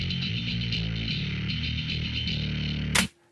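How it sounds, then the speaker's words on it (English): A dry bass guitar plays alone with no reverb, a steady run of low notes that cuts off sharply near the end into silence. "If you hear the bass by itself, it sounds like this."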